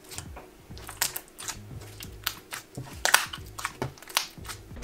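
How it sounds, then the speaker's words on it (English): Slime mixed with jelly cubes is squished by hand, giving close, quiet wet crackles and irregular squelching pops in uneven bursts. "I enjoyed squishing the jelly cubes."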